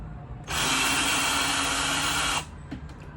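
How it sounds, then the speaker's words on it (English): A cordless power tool whirs for about two seconds while backing out a screw, a close, loud, steady buzz that stops abruptly and is followed by a few small clicks. "So now, I'm unscrewing this screw."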